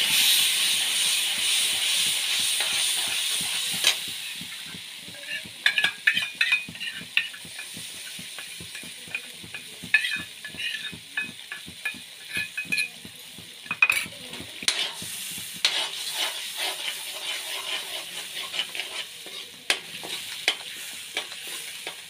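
Masala spices fry in oil in a pan with a steady close sizzle, then a spoon stirs and scrapes in quick repeated strokes while the hiss slowly fades.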